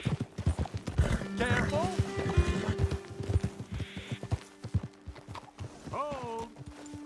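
Horses' hooves clip-clopping in Red Dead Redemption 2, several horses walking close by with a brief whinny, while people talk over the rhythmic hoofbeats.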